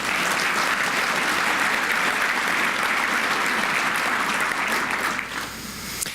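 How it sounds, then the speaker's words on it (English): A large seminar crowd of Rotary presidents-elect claps in a sustained, dense wash of applause that tapers off near the end. "Give yourselves a round of applause."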